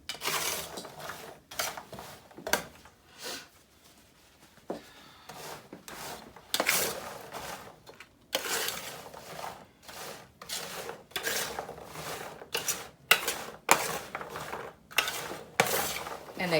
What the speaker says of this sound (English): But I'm going to stir them.